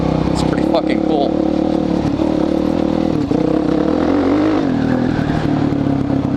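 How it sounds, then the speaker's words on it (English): Suzuki DRZ400SM supermoto motorcycle riding off-road trails in the woods, with a steady loud engine drone throughout and rattling clatter over the rough ground, while a voice talks over it. "blast out onto these trails like this"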